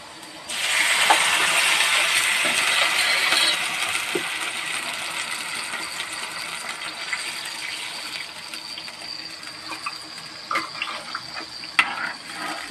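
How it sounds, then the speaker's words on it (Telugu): Water poured from a glass into a cooking pan while making upma, a steady hissing splash that starts loud, then thins into trickles and a few clinks, with no talking. "ఇప్పుడు వాటర్ పోసుకుంటున్నానండి."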